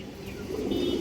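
Pigeons at a pigeon farm coo in low, throaty murmurs that grow fuller over a brief moment, heard close.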